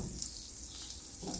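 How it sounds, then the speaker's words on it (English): Butter sizzles and crackles softly in a pan on the heat, a steady, faint frying hiss with no voices over it. "In a pan I have taken some butter, a little butter."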